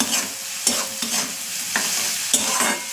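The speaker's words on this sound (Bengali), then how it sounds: "নুনটা দেওয়ার কারণে পেঁয়াজটা আমার এক্ষুনি নরম হয়ে যাবে আর তাড়াতাড়ি ভাজা হয়ে যাবে।" Onion frying with salt in a pan, a steady sizzle broken by repeated spatula strokes scraping and knocking at irregular intervals, close and clear.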